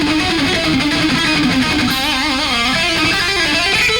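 A distorted electric guitar runs a quick lick with every note picked, a dense stream of fast notes with wavering bends that stays loud and steady throughout.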